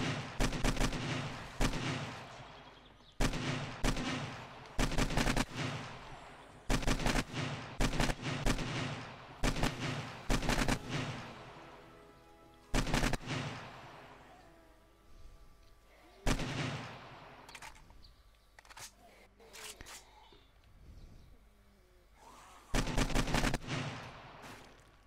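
Repeated loud gunshots from 7 Days to Die, fired in short bursts and single cracks with pauses between volleys, close and sharp, and quieter stretches of ambient game sound in between.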